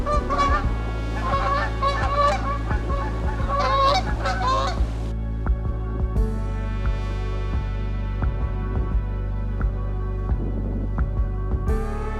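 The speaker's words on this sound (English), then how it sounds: "Here comes some geese." Several geese honking as they fly over a riverside cottonwood forest in autumn, a loud burst of overlapping calls in the first five seconds, then fewer scattered honks fading into the distance.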